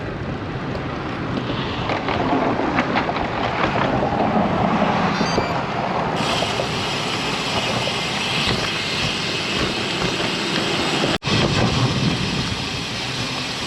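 Strong gusting wind roars across the microphone throughout while a cyclist pedals hard along suburban streets in Kingwood, a loud, steady buffeting rush with one brief dropout near the end.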